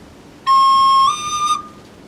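A recorder plays one clear, pure note, tongued at the start and then slurred smoothly up to a second note without a break, sounding close and alone before it stops sharply.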